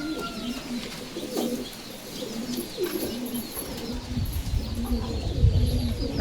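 Pigeons cooing in a loft of high-quality Giribaz pigeons kept for sale, several birds giving repeated low throaty coos at close range with a few faint chirps among them, no talking.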